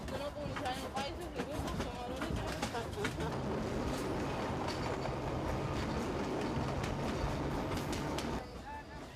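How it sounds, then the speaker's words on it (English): A train travels on the railway to Djibouti with a steady rumble and rhythmic clickety-clack of the wheels, close and continuous, with birds faintly audible. "Saeed Mohammed travels by train 3 times every 15 days"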